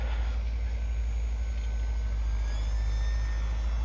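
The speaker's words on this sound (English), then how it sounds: "a crazy guy flying his RC plane at midnight" A small UMX Turbo Timber RC plane flies at night, its thin motor whine rising faintly over a loud, steady low rumble that fills the background, with no voices.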